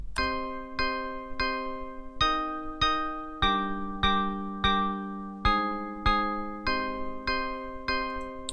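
A synthesized melody in FL Studio of evenly spaced, bell-like chords, each struck and decaying, with layered notes shifting pitch in a steady rhythm.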